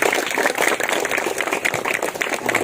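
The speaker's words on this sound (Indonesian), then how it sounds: "Tepuk tangan." Applause at a military barracks camp, a dense, steady wash of many hands clapping close by with no voices standing out, continuing evenly without a break.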